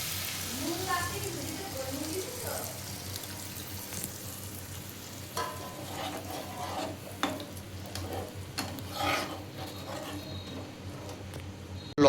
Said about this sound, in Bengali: তেঁতুলের জলটা এতে দিয়ে দেওয়া হচ্ছে।